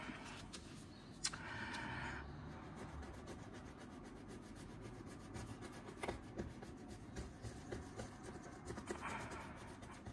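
A scratch card is scratched with short, faint rubbing and scraping strokes in uneven bursts, close by, with no talking.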